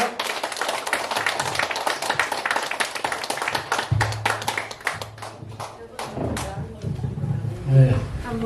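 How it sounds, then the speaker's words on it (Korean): Concert audience clapping in a dense burst of applause that thins and fades after a few seconds, followed by a voice speaking close to the microphone. "박수로 모시겠습니다"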